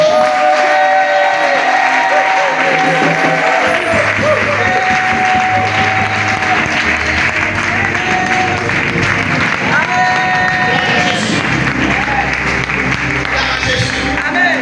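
A church congregation applauds and cheers in acclamation, a loud sustained wash of clapping and crowd voices that holds steady throughout, with music and a voice running beneath.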